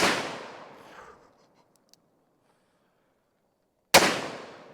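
Two loud, sharp .500 Magnum revolver gunshots at an outdoor range, each a close, explosive crack trailing into a long reverberant decay, separated by about three seconds of near silence.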